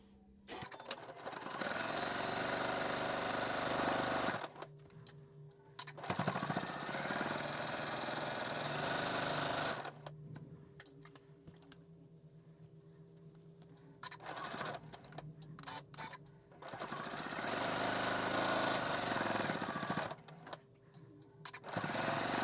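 A sewing machine runs in several bursts while stitching a quarter-inch seam on a quilt block, with a steady mechanical whir that stops and restarts, moderately loud and close, and no talking.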